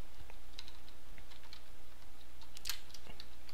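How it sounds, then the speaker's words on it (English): Keys tapped on a computer keyboard while typing a note into the Tomboy note-taking app on Ubuntu 9.10, an irregular run of light, close clicks with one sharper clack near the end, alone without talk. "So if I type out FFmpeg,"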